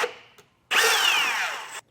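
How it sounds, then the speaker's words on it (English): A power drill with a 1/8 inch bit bores a pilot hole through a metal side-step bracket on a 2023 Toyota Tacoma, a brief whir followed by one sustained, loud, close whine lasting about a second. "so we can drill a hole through there using that 1/8 inch drill bit"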